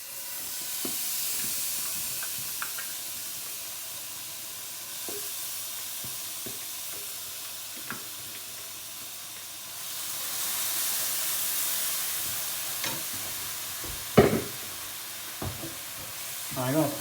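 Curry paste of onion and garlic sizzles and hisses steadily as it pan fries for chicken Madras, with occasional stirring scrapes and clatters and one sharper knock near the end.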